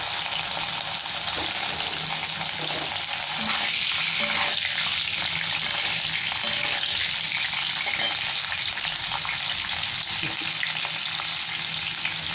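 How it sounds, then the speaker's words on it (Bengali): Large-cut cauliflower pieces frying with a little salt in hot mustard oil, a steady dense sizzle close by with occasional stirring scrapes throughout, no voices. "সর্ষের তেলের মধ্যে ভেজে নেবো একটু লাল লাল করে"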